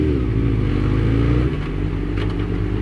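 Suzuki GSX-R600 sportbike engine droning steadily while riding through traffic, a loud continuous close-up hum with wind noise and a slight dip in pitch midway.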